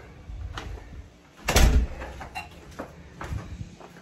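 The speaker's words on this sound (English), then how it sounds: "Let me open the door, baby gates and stuff." A house door swings open with a short burst of rattling and knocking, followed by scattered faint clicks and knocks of nearby baby gates being moved, with no talking.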